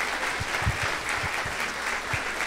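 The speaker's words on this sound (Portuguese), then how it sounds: "Vamos aplaudir o Senhor na vida desse amado." A church congregation at a missionary conference claps together, a steady, fairly faint patter of many hands with a few heavier claps standing out.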